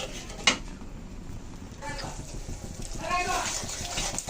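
Masala being stir-fried with thick coconut milk in a pan for baingan bhapa, with a metal spoon scraping and clinking against the pan in a steady rhythm, one sharp clank near the start, under a low background hum.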